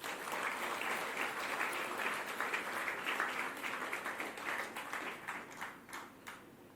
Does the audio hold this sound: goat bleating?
no